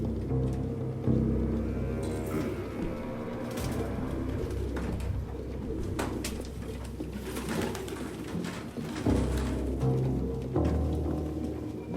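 In the video game Detroit Become Human, pigeons coo in low, repeated throaty calls that overlap steadily over a faint background, with no voices.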